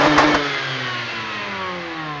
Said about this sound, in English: it is a dual exhaust, so we should probably listen to it.